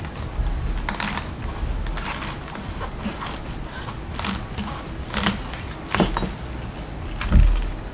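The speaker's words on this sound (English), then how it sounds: "So let's say I just want to cut this right here." A serrated Hast Matrix powder steel bread knife saws through food in a run of close, crisp rasping strokes and crackles, with a louder crunch near the end; no talking.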